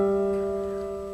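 Sustained piano chord from a theme, a high E over a low G, ringing steadily and decaying slowly, close and clear with no other sound.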